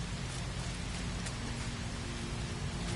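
Steady rain falls in a video game, a dense continuous hiss spread evenly across the whole stretch with no pauses, occasional faint crackles within it and a low rumbling layer underneath, with no voices at any point.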